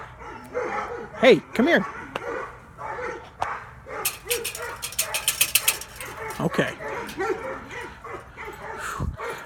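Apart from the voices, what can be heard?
dogs barking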